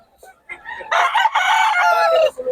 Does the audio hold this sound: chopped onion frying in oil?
no